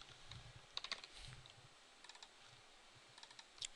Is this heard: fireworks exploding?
no